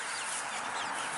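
Six-week-old meat chickens clucking steadily in a movable chicken-wire grass pen, a dense, continuous flock murmur close by.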